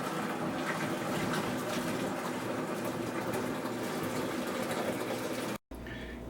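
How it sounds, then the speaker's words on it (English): Cinnamon wine is poured from a pot through a strainer into a fermenter, a loud, steady close-up gush of liquid that runs continuously and then stops abruptly near the end. "We'll just take our pot and we will strain it on down through the strainer into our fermenter."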